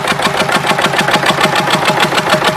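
A Southern Cross stationary diesel engine running at a steam rally, giving a loud, close, rapid regular chugging beat with metallic knocking that holds steady throughout.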